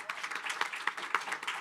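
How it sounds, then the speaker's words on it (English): A conference audience at a Food Day session at UNGA claps in a brief, dense round of applause, many hands at once, fairly close and steady for under two seconds. "Round of applause, please"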